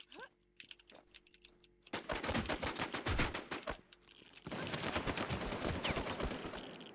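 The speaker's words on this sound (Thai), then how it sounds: "คือเสียงปืนมันมาแล้วเว้ยทุกคน แล้วกระสุนมาถึงโคตรช้าเลยอะ" Rapid bursts of automatic gunfire from the online zombie survival shooter WarZ, loud and dense from about two seconds on, briefly dropping before resuming as sustained fire, with no talking.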